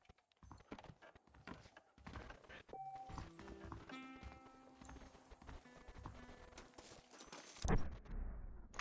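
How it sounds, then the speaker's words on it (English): Hooves of a dark brown horse with a light mane clip-clop in the Western game Red Dead Redemption, a steady walking rhythm mixed with game music and ambient sounds, ending in a louder thump. "Special dark brown horse with a light mane."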